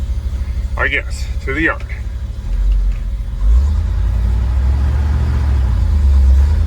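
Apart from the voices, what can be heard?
International Harvester Loadstar 4x4 truck engine starting and running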